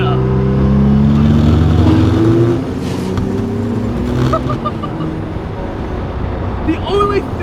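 A Datsun 240Z with a swapped 500-horsepower twin-turbo RB26 engine, its low engine note droning loudly and steadily before easing off slightly, a sustained close rumble with some faint higher tones over it.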